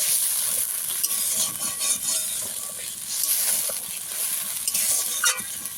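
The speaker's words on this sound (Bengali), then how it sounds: "সমস্ত মশলা একটু ভালো করে কষিয়ে নেব" Ground spice paste with cumin being stir-fried in oil and a little water in a pan, a close, steady sizzle broken by repeated scraping of the spoon against the pan.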